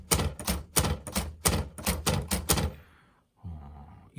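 Keys strike on a typewriter in a quick, even run of about nine sharp, close clacks, followed by a short pause and a softer mechanical thunk.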